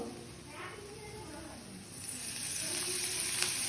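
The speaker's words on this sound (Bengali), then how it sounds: "একটু একটু করে তেল দিয়ে ভাজবো এবার এগুলোকে" Onion, chilli and capsicum fry in oil in a kadai, a steady sizzle that swells louder partway through and keeps hissing close by, with occasional stirring scrapes.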